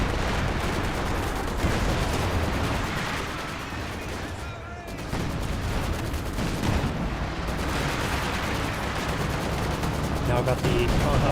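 A KV-1 tank fires amid a Company of Heroes 2 battle, with heavy, continuous gunfire and booming shots layered densely throughout and a brief lull midway, while voices are heard under the din.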